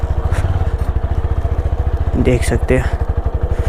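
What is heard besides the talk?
TVS Apache motorcycle with full system exhaust riding through mud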